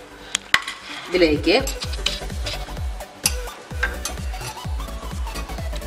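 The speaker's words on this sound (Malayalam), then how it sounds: "ഇനി നമുക്ക് കൂന്തൽ അല്ലെങ്കിൽ കണവ, ഇത് നമുക്ക് ഒരു ചട്ടിയിലേക്കിട്ട് വേവാൻ വയ്ക്കാം" Squid (koonthal or kanava) cooks in a pan for a spicy roast, with repeated metallic scrapes and clinks of stirring over a soft sizzle, close and moderately loud; a voice says a single brief word.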